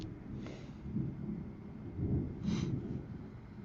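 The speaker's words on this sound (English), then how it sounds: "if there's thunder, you know there's lightning somewhere" Thunder from a storm, low distant rumbling that swells twice into deeper rolling peaks, faint and alone with no talking.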